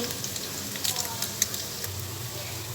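Slices of bread frying in a pan over a low flame, a steady soft sizzle with occasional light pops and crackles, close and moderately quiet.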